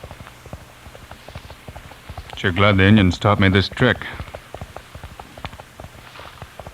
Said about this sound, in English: With my ear close to the ground, I can hear his horse running.